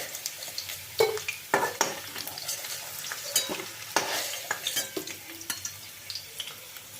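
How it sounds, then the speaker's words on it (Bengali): Potatoes frying in oil until reddish while cooking jackfruit curry, a crackling sizzle broken by frequent sharp clinks and scrapes of a utensil against the pan. "একটু লালচে করে ভেজে নেব আলুগুলো"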